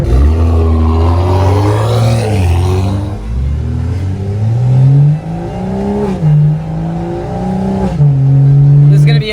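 A BMW M240i fitted with a catless downpipe revs hard, then drops through downshifts with a rising and falling engine note and crackles, loud and close, with people talking briefly over it.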